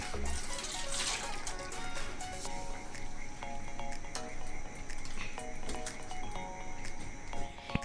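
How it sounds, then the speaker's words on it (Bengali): Water drains from soaked sago through a strainer set over a steel bowl, a close, steady trickle and splash that continues without break. "ছাঁকনির মধ্যে এবার সাবুত থেকে জলটা ঝরিয়ে নেব"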